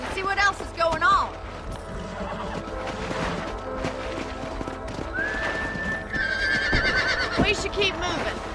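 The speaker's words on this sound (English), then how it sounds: "Let's get back on the horses and see what else is going on." Horses in the Western video game Red Dead Redemption whinny and clop along, several high neighs rising over steady hoofbeats, with talking mixed in throughout.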